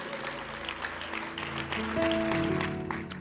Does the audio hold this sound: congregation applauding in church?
yes